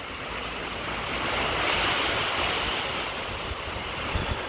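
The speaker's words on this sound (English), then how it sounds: "Hey, a little wind coming." Steady outdoor wind ahead of a storm under a tornado warning rushes past the microphone, swelling slightly in the middle of the clip with a low rumble of buffeting throughout.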